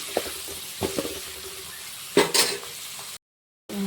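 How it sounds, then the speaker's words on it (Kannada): Onions frying in a pan until deep red-brown crackle and sizzle under a few sharp clinks and scrapes of a stirring spoon, ending in a moment of silence. "ಈರುಳ್ಳಿ ಮಾತ್ರ ಫುಲ್ ಕೆಂಪು ಆಗತ್ತಾನ ಫ್ರೈ ಮಾಡ್ಕೊಬೇಕಾಗ್ತದೆ"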